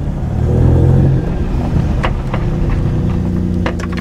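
A car engine drones loud and close with the pedal held to the floor, a sustained low roar that swells early on and then holds steady, with a few faint clicks near the end.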